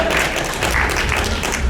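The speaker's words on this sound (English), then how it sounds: "So I get a round of applause for being mean" Loud, dense audience applause at a fan convention panel, a steady wash of many hands clapping close by with no voices over it, fading slightly partway through.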